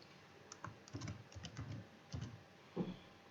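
HTML code is typed on a computer keyboard in an uneven run of crisp, close keystrokes with brief pauses between bursts, with no talking.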